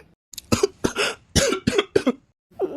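Several harsh, close coughs come in a quick series of bursts, then a short pause and one more cough.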